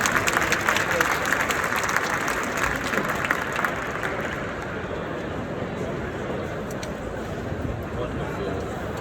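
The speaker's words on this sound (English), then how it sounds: "And one more round of applause for Hannah Blumgarten" Sustained applause from a large crowd, steady and loud throughout, with clapping dense and continuous and a faint murmur of voices underneath.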